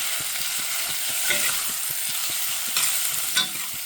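Sautéed yuca with cumin powder being stirred in a pan, a continuous close sizzle with a regular run of light spoon scrapes and a few louder clatters near the end.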